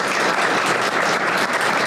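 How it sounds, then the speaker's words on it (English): A room full of people applauds for Scott at an educational workforce forum, a steady, dense clatter of clapping that holds evenly at close range for the full stretch without any voices. "So we want to give Scott a round of applause for introducing him."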